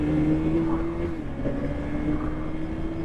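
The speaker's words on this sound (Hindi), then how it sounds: "ये देखो बाइक को एक्सेलरेट करना और साइड में जितने भी मतलब नॉइस रहती है ना सड़क के ऊपर" Motorbike accelerating through road traffic, picked up by a mic inside the rider's helmet: a steady droning engine tone under muffled wind rush, continuous and fairly close.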